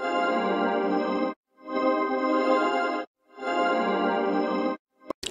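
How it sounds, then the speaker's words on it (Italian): A beat's melody line drenched in heavy reverb swells in three long, washy phrases separated by short silences, fairly soft, with no voices. "Ho preso praticamente la stessa melodia di prima e ho aggiunto il riverbero."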